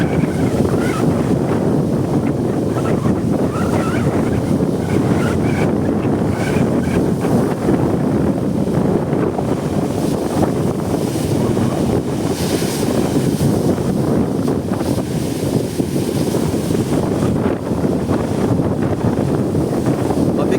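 Wind roars constantly across the microphone on a small boat at sea among waves of two to three feet, with water washing and churning in a dense unbroken rush and voices partly buried beneath it.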